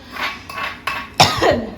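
A few short, sharp coughs, the last one loudest, with light clatter of dishes in the background.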